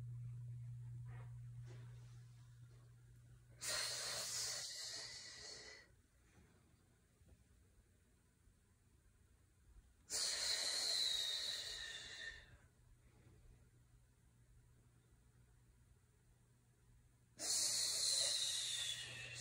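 Three long, breathy bursts of workout breathing from someone doing skater training reps, each a loud hissing exhale lasting about two seconds and spaced several seconds apart over a low steady hum.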